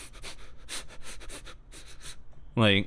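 A voice imitates a run of sharp nasal sniffles, then ends with a short, louder quiet sob, like someone crying softly in sorrow.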